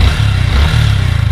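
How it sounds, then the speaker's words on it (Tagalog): Yamaha Sniper 155 motorcycle with 50,000 km on the odometer, its engine idling close by in a steady low throbbing rumble with faint mechanical clatter and a slight vibrating rattle. "tunog ng makina."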